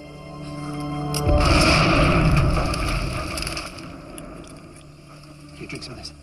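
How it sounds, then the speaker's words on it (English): Distant explosion on an island in a movie scene, a sudden deep rumbling boom that swells and slowly fades over several seconds, amid ambient outdoor noise. "You heard that, right? Yeah. Like an explosion?"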